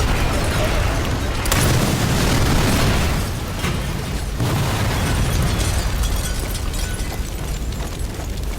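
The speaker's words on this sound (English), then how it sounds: "Let's look at the explosives and fire." Explosions and fire in the video game Sniper Elite 4, a run of heavy booms and bursts with crackling fire and rumble between them, loud and continuous, with someone talking over part of it.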